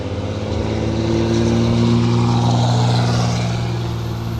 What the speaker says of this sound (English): Well, that was a loud truck.